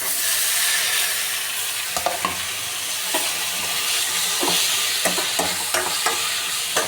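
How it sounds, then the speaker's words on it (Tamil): Onion, tomato and green chilli being stirred and roasting in a pan for green peas kurma: a constant close sizzle with the scrape and knock of a spoon against the pan, no voices. "நல்லா மிக்ஸ் பண்ணி வச்சுப்போம். நல்லா ரோஸ்ட் ஆகட்டும்."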